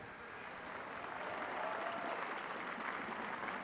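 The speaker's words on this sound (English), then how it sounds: "Yeah, you can clap." Graduating class of 2026 is applauded at a university ceremony. Dense, steady applause from a large crowd fills the hall, swelling slightly and continuing throughout.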